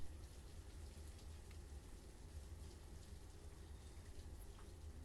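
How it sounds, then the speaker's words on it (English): Steady rain falls in the city-building video game Banished, a dense, continuous hiss with a low rumble underneath, even and unbroken throughout with no voices. "Start us off with some rain."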